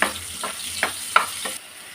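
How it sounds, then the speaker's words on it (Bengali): Potato pieces fry in a pan with a little salt, giving a soft, steady sizzle broken by a few sharp stirring scrapes before it settles into a quieter hiss. "এবার এই ফ্যানের মধ্যে আলুগুলো আমি বেজে নিব"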